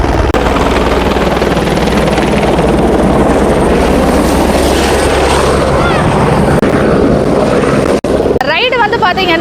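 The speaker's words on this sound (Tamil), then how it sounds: "அந்த ஹெலிகாப்டர் பின்னாடி ஏர் வந்து வெளியில் வருது." A helicopter roars loudly and close by at a hot air balloon site, its rotor thumping in a dense, continuous wash of noise, with a voice speaking near the end.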